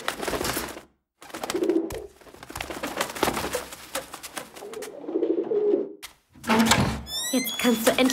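A messenger pigeon coos in soft bursts alongside wing flaps, the sounds separated by short silences, with a flurry near the end as the bird takes off.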